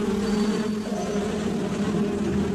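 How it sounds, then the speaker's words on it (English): A colony of stinging bees hums in a steady, droning buzz, continuous and fairly close, with no speech over it. "hiding a colony of stinging bees in soldier-like dummies"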